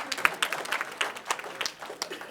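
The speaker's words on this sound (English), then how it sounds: "I accept your applause" An audience breaks into scattered applause, a brief patter of clapping hands that rises and falls across a couple of seconds at moderate volume.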